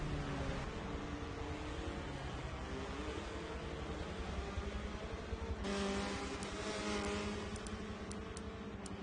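Race cars in a sim racing league event roar steadily throughout, a continuous broadband engine drone with shifting tonal whine, near and loud, with no pauses.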